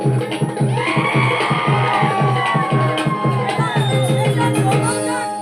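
A crowd at a live singing event in Goa cheers and whoops for the singer, a loud, dense, continuous roar with shouted calls rising over it throughout.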